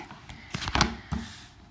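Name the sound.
shuffling an oracle card deck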